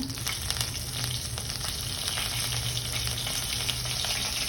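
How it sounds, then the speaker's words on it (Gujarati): Crushed garlic and ginger sizzle steadily in hot oil with cumin, mustard seeds, a dried red chili, asafoetida and curry leaves, a dense continuous frying hiss close up with no talk. "વાટેલા લસણ અને આદુ બરાબર સાતવી લો"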